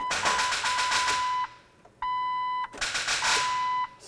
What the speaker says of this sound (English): That beep says we can start the engine.